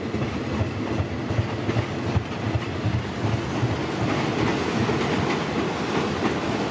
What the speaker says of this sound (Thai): เข้าสถานีบางซื่อแล้วนะฮะขบวนแรกของวันนี้กรุงเทพเด่นชัยน่าจะล่าช้านะ